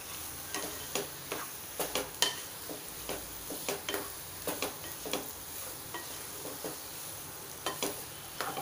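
Onion and paneer bhurji stirred in a pan, a spatula scraping and clicking in a steady, repeated rhythm over a low sizzle, close and clear with no talking.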